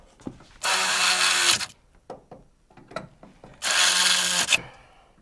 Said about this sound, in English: using the 5/16 drill bit, we're popping these holes.